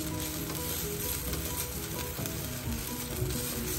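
Ground spices including cumin, garam masala, red chili and Kashmiri chili powder sizzle in hot oil in a pan while being stirred, a steady close crackling hiss with faint scraping, no voices.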